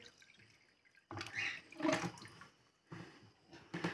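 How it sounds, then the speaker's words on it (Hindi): Aquarium water is poured into the bag holding an oscar fish, producing bursts of splashing and trickling liquid close by, with short pauses between pours and no talk. "अब हम अपना एक्वेरियम का पानी इस इस ऑस्कर फिश में के पानी में मिक्स करेंगे"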